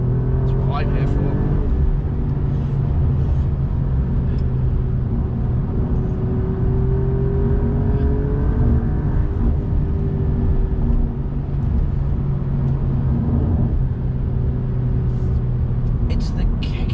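An Alfa Romeo Quadrifoglio pulls hard under acceleration, its engine a loud, continuous droning rumble heard from inside the cabin with steady road roar, rising and easing slightly through the gears.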